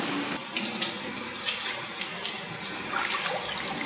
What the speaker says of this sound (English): A good rinse to get rid of the copper.